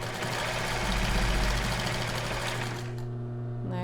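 A sewing machine runs a zigzag stitch on a bra strap, a close, loud, steady mechanical hum that slows and winds down near the end, with no talking.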